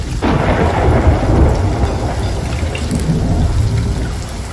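A thunderstorm in the pirate game Sea of Thieves opens with a sudden loud thunderclap that rolls on into a steady roar of heavy rain, close and dense throughout.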